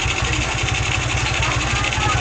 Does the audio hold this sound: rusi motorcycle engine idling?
yes